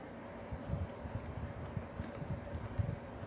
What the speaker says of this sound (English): Kinda hard to type on a small keyboard.